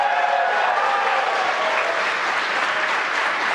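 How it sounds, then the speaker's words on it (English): SpaceX employees gathered at headquarters during a Dragon capsule splashdown break into sustained applause and cheering, a dense, loud wash of clapping that holds steady throughout. "You can hear cheering here at SpaceX headquarters"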